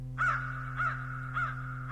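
Three harsh caws from a single crow come in an even sequence, fairly close and clear against a quiet background.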